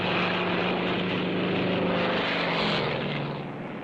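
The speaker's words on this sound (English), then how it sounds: "The LSO actually nurses every one of those planes down to a perfect landing" WWII propeller planes approaching a carrier to land make a loud, steady engine drone that stays close and constant, easing slightly toward the end, with no voices.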